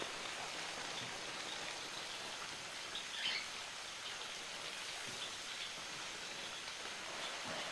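Garden plants beside a guppy pond are sprayed with water, giving a steady, even hiss that runs unbroken throughout, with a faint bird chirp in the background.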